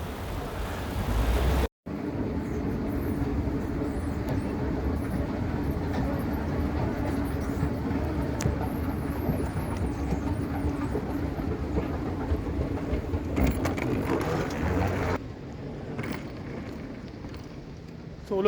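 A Haramain high-speed train in Saudi Arabia runs with a steady, loud rumble and rushing wind noise, heard from inside the carriage, with a few faint clicks and a brief dropout.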